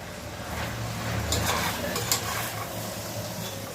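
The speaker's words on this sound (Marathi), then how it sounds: "हे आता चांगलं एकदा पुन्हा परतवून घ्यायचं आहे" Peas with salt being stir-fried in a pan for a mixed winter vegetable dish, a steady close sizzle with soft scraping stirs, loudest in the middle and holding even throughout, with no talking.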